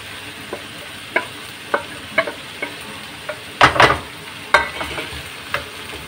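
Ginger and garlic fry with simple ground spices in a pan, a close steady sizzle broken by scattered stirring clatters and one louder scrape burst midway.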